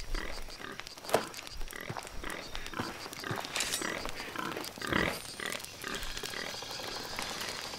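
Pig grunting in the jungle of Shadow of the Tomb Raider, a string of close rough snorts and grunts with shuffling movement around them over steady ambient noise.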